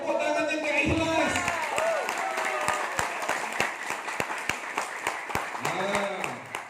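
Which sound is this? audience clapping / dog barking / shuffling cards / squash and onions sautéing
audience clapping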